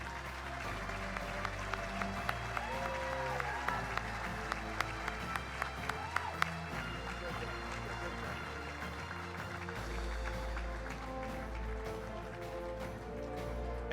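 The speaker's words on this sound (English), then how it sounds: "They deserve a round of applause." An audience at a State of the City event applauds the city council, a sustained crowd clapping with sharp individual claps standing out, over background music and murmur.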